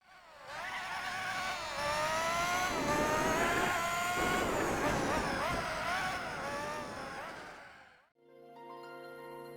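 Racing car engine from the PlayStation 2 game Gran Turismo 4, a sustained high revving drone with rising and falling pitch that cuts off abruptly into a brief tonal hum.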